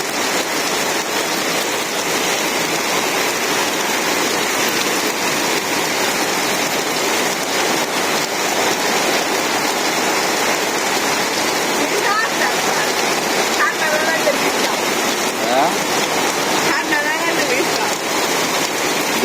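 Rain pours steadily in a Bangladeshi village, a dense, constant wash of falling water at an even, fairly loud level for the whole stretch, with faint voices and small sounds buried underneath.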